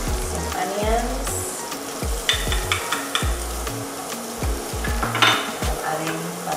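Onions, mushrooms and other vegetables with pimento sauté in garlic butter in a pan, giving a close, bright sizzle interrupted by sharp clanks and scrapes of a utensil stirring against the metal.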